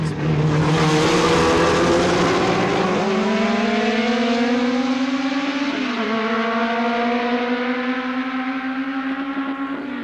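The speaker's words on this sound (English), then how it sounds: "the faster cars are lapping at almost 130 miles an hour" Race cars lap the circuit at Le Mans in 1976, engines roaring loud and close as one car passes, its pitch gliding down with a brief dip, while the howl fades slowly into the distance.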